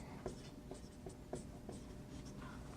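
Marker or chalk strokes of math being written on a board during a multivariable calculus lecture, a string of short scratchy taps and squeaks spaced through a quiet room, with no talking.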